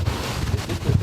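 Strong storm wind in Finistère roars in gusts, buffeting the microphone with a dense, low rumble through the whole brief moment.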